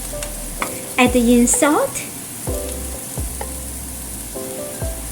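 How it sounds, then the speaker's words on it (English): Tofu and dried beancurd pieces stir-frying in a hot wok, with a steady close sizzle and repeated scraping stirs throughout, while a voice speaks briefly over the cooking. "Stir fry about another half a minute."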